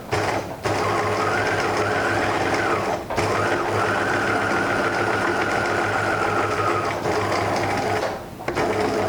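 Sewing machine running steadily as it stitches the seam of a fabric face mask, a loud continuous motor hum with two brief pauses between runs of stitching.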